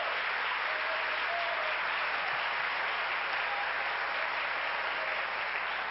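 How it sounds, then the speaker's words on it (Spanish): A church congregation claps hard and continuously during a Sunday service, a thick, even wash of applause that holds steady throughout with no voices on top. "Dele ese aplauso fuerte."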